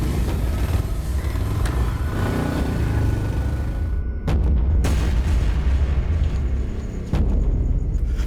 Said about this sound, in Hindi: गोलियां चलने की आवाज आई।